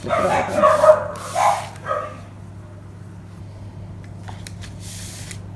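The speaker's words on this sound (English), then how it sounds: "If not, I apologise for the dog barking." A dog barks several times close by in a home setting, three quick sharp yaps near the start, with a person briefly speaking and a steady low hum behind.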